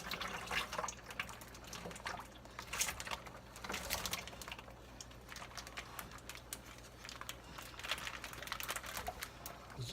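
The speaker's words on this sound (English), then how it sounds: "Now I take the juice and pour it in" Thick winemaking kit juice concentrate is poured into a cleaned container, giving a soft, continuous liquid trickle with small splashy peaks at close range and no talking.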